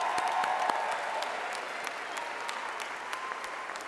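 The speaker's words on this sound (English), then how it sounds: "How about one more round of applause for our graduating class of 2011?" An indoor commencement crowd gives steady applause for a graduating class, a dense, continuous clapping that holds through the whole stretch and fades slightly toward the end.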